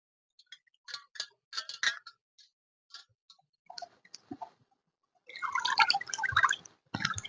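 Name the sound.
washing hilsa fish pieces in water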